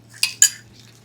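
A spoon knocks against a cooking pot of tapioca twice in quick succession, two sharp metallic clinks close by in a quiet kitchen.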